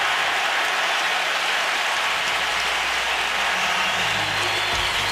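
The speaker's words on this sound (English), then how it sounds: "How about the crowd? How about the atmosphere tonight?" A basketball arena crowd applauds at a Louisville at Purdue men's college game, a dense, steady roar of clapping that fills the whole stretch without a pause.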